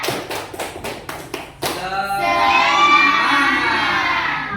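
A classroom group of students claps a quick rhythmic pattern of sharp, evenly spaced claps, then breaks into a loud, sustained shouted chant together.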